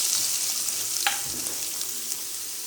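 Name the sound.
onions sizzling in oil with mustard seeds and urad dal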